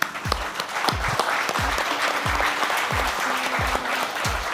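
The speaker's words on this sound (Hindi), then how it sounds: "आई वॉन्ट तालियां ऑन दिस" An audience at a talk claps steadily under a series of regular low thumps that repeat about every half second, and the applause stays fairly even throughout.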